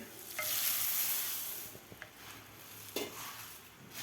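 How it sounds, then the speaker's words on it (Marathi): Puffed rice for lemon bhel is stirred into fried spices and dal in a large wok, a soft continuous sizzle with scraping stirs and a few light clinks of the spoon, fairly quiet. "आता मुरमुरे आपल्याला व्यवस्थित मिक्स करून घ्यायचे आहेत खालच्या मसाल्यामध्ये."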